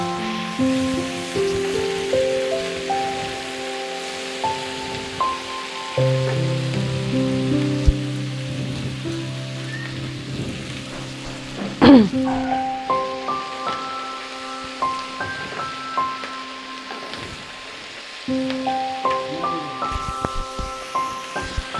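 Egg korma masala is stirred and fried in a pan, giving a continuous hissing sizzle with scraping stirs, heard under steady background music.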